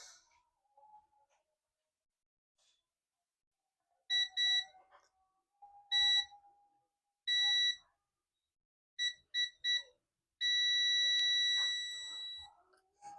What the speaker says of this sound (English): you can hear my multimeter is in diode mode